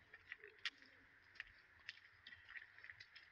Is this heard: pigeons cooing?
yes